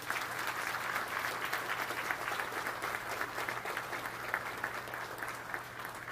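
An audience applauds at a military exercise opening ceremony, an even, continuous patter of clapping heard at moderate distance over a low hum, without talk.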